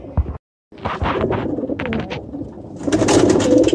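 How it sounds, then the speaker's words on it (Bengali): Pigeons coo in a loft of big-sized high-flyer Giribaz pigeons, a close run of soft, throaty bursts with rustling, growing busier and louder toward the end. "সব তো বাছা কবুতর"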